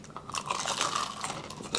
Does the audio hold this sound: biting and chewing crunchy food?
yes